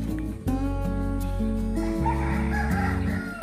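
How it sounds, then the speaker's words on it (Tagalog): Pet birds in a rural province yard give loud, sustained, tonal calls close by, with rooster-like crowing overlapping and layered calls continuing throughout. "O, pakinig niyo, napakasaya ng ibon."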